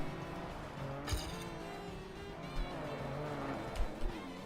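A race car in a Red Bull racing video game accelerates hard in reverse from a standstill, a steady droning engine with brief tire squeals and skid bursts, fairly loud with no talk.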